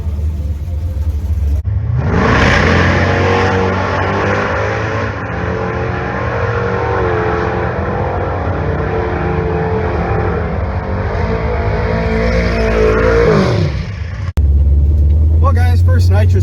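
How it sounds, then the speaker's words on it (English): A drag race car on a nitrous pass bursts into a loud, sustained roar from a standstill, the engine holding a heavy rumble close by for about twelve seconds before cutting off abruptly. "So we'll see how this first nitrous hit goes."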